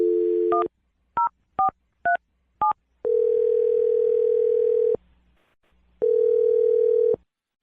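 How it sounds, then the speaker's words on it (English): A landline phone is dialed to place a call: five short two-tone keypad beeps in quick, uneven succession, then two long steady ringback tones separated by a pause, clear and close, with no talking. "I'm going to dial the phone number and try and get you a second date right now"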